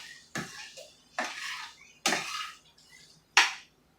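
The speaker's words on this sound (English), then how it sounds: "I hate banging on pans." Metal pans banged and scraped on a stovetop while cooking rice with canned foods: four separate clanging hits spaced about a second apart, each ringing briefly, close and loud, with no talking.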